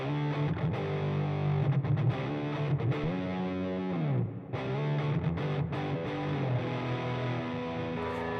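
A thick, fuzzy distorted guitar tone from a Siren Pedals Airavata distortion pedal with the filter maxed, almost no treble, sustained chords and a bending note, loud and continuous with no voices.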